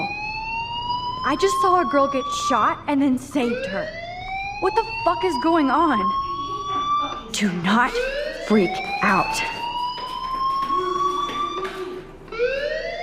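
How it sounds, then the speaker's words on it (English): A fire alarm rings in the Life is Strange video game: repeated rising electronic whoops, loud and continuous, heard under a voice speaking throughout. "do you hear that fire alarm?"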